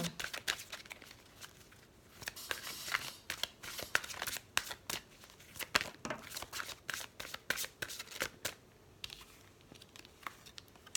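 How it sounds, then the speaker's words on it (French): A deck of heart-chakra oracle cards is shuffled close up in a quiet room, a long run of rapid riffling and flicking clicks with short pauses, and no voices. "On va tirer quelques cartes de l'oracle des chakras du cœur"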